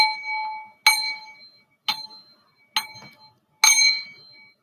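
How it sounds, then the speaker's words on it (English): A chime is struck five times at an unhurried, even pace, each bright metallic ring decaying before the next, soft and close with nothing else heard. "A little chime action too."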